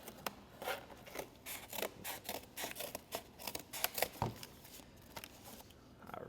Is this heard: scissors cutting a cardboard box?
yes